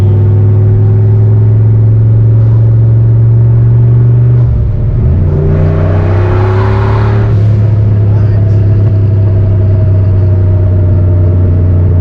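A War Admiral street car idles with a heavy low rumble, then its rear exhaust cutouts open and the engine revs up into a louder, harsher roar before settling back to a deep burble. People talk over the engine.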